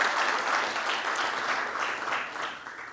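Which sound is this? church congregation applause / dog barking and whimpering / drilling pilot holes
church congregation applause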